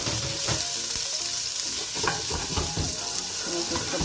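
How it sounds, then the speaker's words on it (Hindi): Finely chopped green chilies fry in hot oil in a pan, giving a loud, steady sizzle close up, broken by frequent scraping and stirring strokes throughout. "और साथ इसके अंदर हमने ग्रीन चिली ऐड करनी है जो हमने बारीक काट के रखी थी।"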